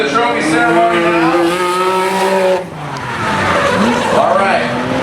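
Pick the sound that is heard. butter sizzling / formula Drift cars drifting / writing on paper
formula Drift cars drifting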